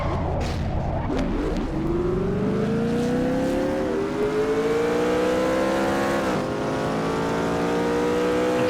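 A race car in the 125 qualifier of a stock-car racing video game pulls away after a crash, its engine note rising steadily as it accelerates and whooshes off, loud and continuous with no talk.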